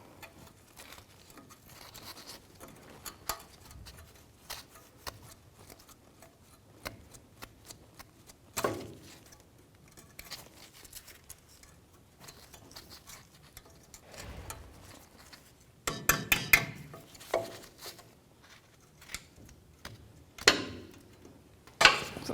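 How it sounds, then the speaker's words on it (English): Cotter pins are pried out of the ball joints on a 1997-04 Dodge Dakota lower control arm, giving sparse, quiet metallic clicks, ticks and small scrapes, with occasional short louder clusters and no talking. "So I'm going to take the top cotter pin out and then the lower."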